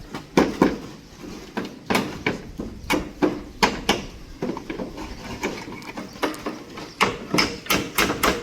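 Hammer blows ring out during construction of a concrete pergola: loud, close, irregular strikes that sometimes come in quick pairs, over a low background murmur and with no talking.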